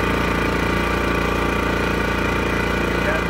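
An EcoFlow Smart Generator engine idles loudly and steadily with a rough, pulsing mechanical drone that holds constant throughout, close up and with no voices.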